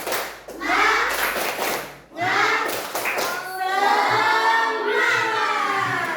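A group of children clap a rhythmic spirit clap in a classroom, the quick bursts of claps interleaved with their chanting voices, loud and close.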